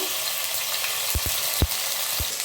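Ginger paste fries in oil with cinnamon over a low gas flame, a constant close sizzle with a few soft low knocks from stirring.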